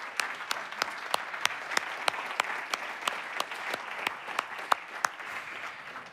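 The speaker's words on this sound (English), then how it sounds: "Let's all give a big round of applause to the organizers, to Jakob Doppler and all his team" An audience at the build.well.being 2023 event applauds the organizers with steady, sustained clapping that holds at an even level throughout and includes some sharp individual claps.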